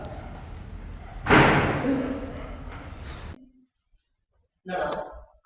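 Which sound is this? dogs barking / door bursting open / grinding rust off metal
door bursting open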